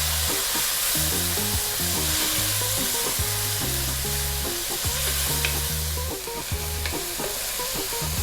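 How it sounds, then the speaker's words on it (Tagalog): Tomatoes and onions sautéing in a pan, loud continuous sizzle and frying crackle with repeated scraping and stirring strokes, no voices. "Gigisayin ko lang siguro siya ng mga 1 minuto bago tayo pumunta sa ating next step."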